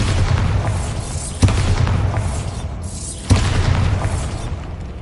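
Bombarda spell blasts in Hogwarts Legacy on PS5: two sharp, loud explosions a couple of seconds apart, each bursting out of a heavy, continuous rumble that fills the whole stretch.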